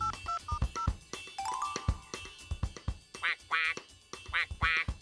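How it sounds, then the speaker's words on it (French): Cartoon ducks on a farm quack in quick, nasal bursts, some clustered and some spaced apart, close and clear, with a few short electronic beeps and tones mixed in early on. "Tom, tout ce que j'entends, c'est Cancan et Coin-Coin."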